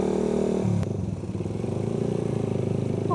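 A motorcycle rumbles steadily over a rough, broken road, its engine note loud and close with jolting clatter mixed in throughout.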